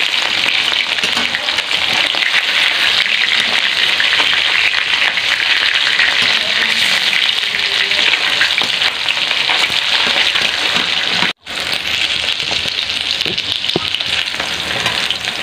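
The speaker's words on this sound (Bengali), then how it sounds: "মাছগুলো আমি লাল লাল করে ভেজে নেব।" Pieces of a large katla fish fry in hot oil, a loud, dense, continuous sizzle with bright crackling that barely changes, apart from one momentary dropout near the end; no voices.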